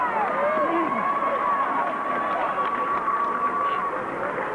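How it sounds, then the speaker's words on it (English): Crowd at a Winona High School Tigers basketball game in a 3A state tournament against New Albany, a steady loud wash of cheering and hubbub throughout, with sneaker squeaks and game noise mixed in. "Part of the crowd from Winona"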